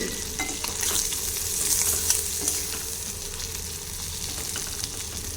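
Shrimp sizzle steadily in hot oil in a pan, a continuous close frying hiss with crackles and faint stirring, no talking.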